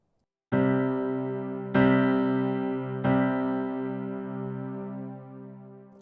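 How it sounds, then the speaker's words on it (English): Three distorted electric guitar power chords, each struck once and left to ring out, thick and sustained, decaying slowly. "The notes played together give us the power chord."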